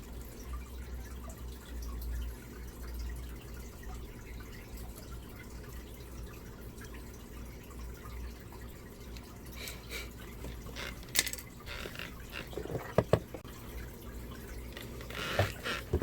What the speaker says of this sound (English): So we did a quick rinsing of all of our stuff.